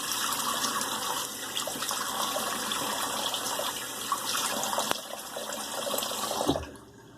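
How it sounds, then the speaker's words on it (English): Cold tap water runs steadily into a sink while a face is rinsed with it after a shave, a continuous close splashing wash that cuts off near the end. "Let's bend down and do a cold water rinse."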